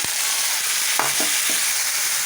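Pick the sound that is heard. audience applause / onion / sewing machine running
onion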